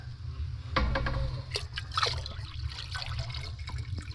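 Hot water poured into a container at a rustic taiga cabin, a faint, steady trickle and splash running throughout with scattered clinks and knocks.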